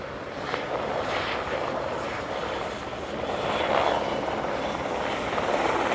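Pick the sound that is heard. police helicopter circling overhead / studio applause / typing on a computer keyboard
police helicopter circling overhead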